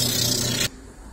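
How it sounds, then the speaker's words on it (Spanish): Coarse number 36 sandpaper rubbed against a surface while preparing a shoe for resoling, a steady close rasping scrape that stops abruptly partway through. "trabajos le hacemos con una lija número 36"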